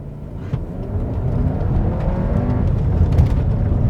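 An Audi Q3 45 TFSI Quattro Anniversary Edition on sporty asphalt tires launches at full throttle in off-road mode, its engine note rising in a steady, loud, close whirring roar.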